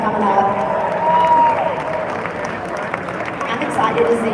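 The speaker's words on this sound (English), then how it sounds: "Let's give them a big round of applause as they're coming up" An awards crowd claps for contestants coming up, a steady wash of applause and murmuring across the whole stretch, close and fairly loud, with a voice over the noise.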